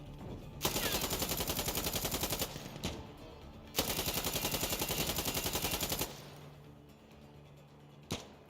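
Machine gun fire in Insurgency: Sandstorm, played online on Xbox Series X: two long, rapid sustained bursts of about two seconds each, with a short single shot between them and a lone sharp report near the end.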